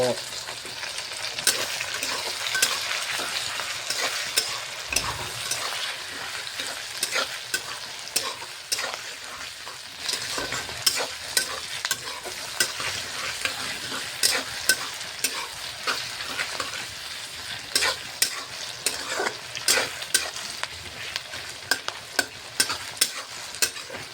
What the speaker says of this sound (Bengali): প্রায় পেঁয়াজটা ভালো করে ভাজা হয়ে গেল